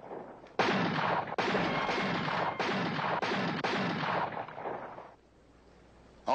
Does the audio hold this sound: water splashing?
no